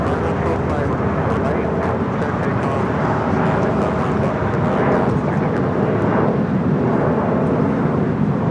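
Lufthansa Boeing 747 on its takeoff run at LAX's south side, a loud, dense jet roar that holds steady throughout, thick with low rumble and hiss, fairly close.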